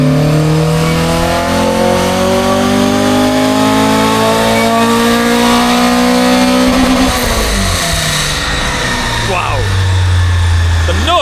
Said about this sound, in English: That is how a little hot hatch should sound.